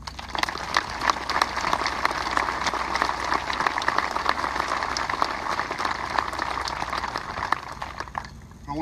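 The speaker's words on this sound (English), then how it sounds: "Another round of applause." Applause from an outdoor twilight ceremony crowd at a memorial wall, steady dense clapping sustained throughout before tapering off at the end.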